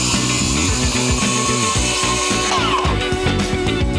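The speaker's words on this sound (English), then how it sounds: "We're all ready to start sawing." A power saw whines steadily as it cuts a board, loud and close, its pitch shifting partway through as the blade bites in.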